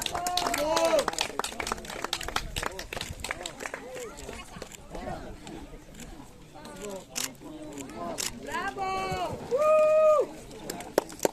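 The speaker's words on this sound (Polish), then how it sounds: "Wielkie brawa i gratulacje dla panów." Spectators at a riverside eco-run race ceremony clap for the finishing runners, scattered claps running beneath an announcer's voice and rising in a brief louder burst near the end.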